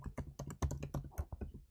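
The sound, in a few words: typing a password on a computer keyboard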